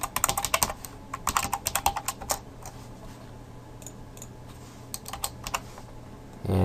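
Quick bursts of close key clicks as HTML code is typed on a computer keyboard, irregular clusters of taps separated by short pauses, fairly quiet.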